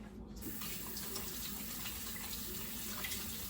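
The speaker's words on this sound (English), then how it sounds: "Let me wash my hands quick." Tap water runs steadily into a sink while hands are washed, a constant gushing splash heard close and alone after a brief quiet start.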